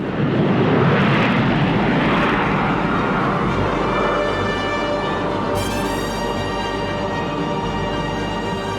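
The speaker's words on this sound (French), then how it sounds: "Les ailerons canards ralentissent considérablement l'avion lors de l'appontage." A loud, continuous jet roar fills the air, its whine shifting in pitch as a Rafale fighter passes close by while landing on an aircraft carrier.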